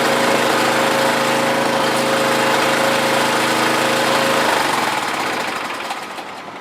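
Briggs & Stratton water pump engine running after repair, a loud close steady hum that deepens and roughens as it is revved harder, then tapers off toward the end, with no talking.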